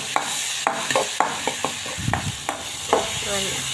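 Green chilies and onion fry in a pan while a spatula stirs them, giving a series of sharp scrapes and taps over a low, steady sizzle. No one speaks.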